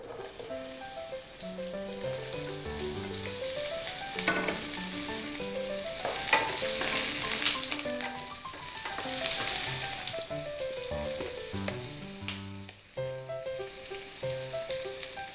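Sliced onions with salt frying in oil in a pan, a continuous close sizzle and crackle under background music, with occasional stirring noises and no speech.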